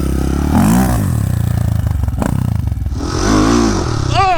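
A Honda 400EX quad fitted with a big bore kit and cam accelerates hard. Its loud, close engine note climbs in rising sweeps, drops briefly around a shift, then revs up again.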